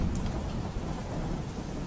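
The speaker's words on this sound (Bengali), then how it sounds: "এই যে যেমন আজকে বৃষ্টি হচ্ছে" Steady heavy rain pours down with a deep rumble of thunder underneath, dense and continuous, with no voices.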